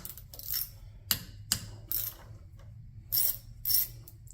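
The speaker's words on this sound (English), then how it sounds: "let's get these screws off" Screws come out of a part on a 9.9 or 15 HP outboard motor, heard as several short, close metallic clicks and ratcheting scrapes separated by quiet pauses.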